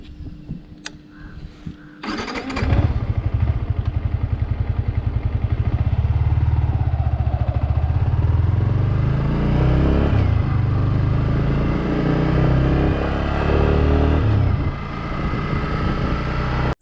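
A Yamaha MT-15 motorcycle on a test ride: after a couple of seconds of faint handling noises, the engine fires up close by and runs with a loud, steady thrum, dipping briefly near the end.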